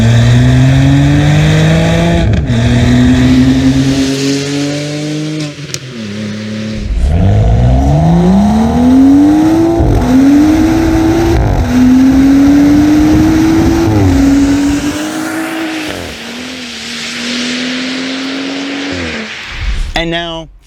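BMW 130i and M135i engines revving in turn, loud close rises and falls in pitch with repeated throttle blips, short pauses between bursts, and a brief sharp rev near the end.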